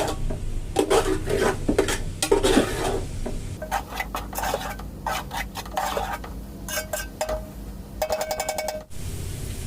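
Ginger, garlic and green chili get stirred in a pan while cooking chicken majboos, giving repeated close metallic scrapes and clinks of a spoon against the pan in uneven strokes with no talking.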